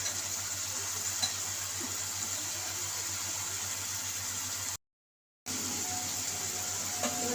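Pieces of hilsa fish sizzle and fry in a pan, a steady close hiss that runs almost unbroken apart from one brief silent gap, with no one talking.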